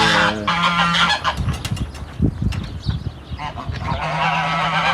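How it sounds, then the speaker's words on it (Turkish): Several farm geese honk loudly and repeatedly nearby, harsh overlapping calls with shorter rustling and clucking sounds in between. "şimdi kazlar burada çok güzel"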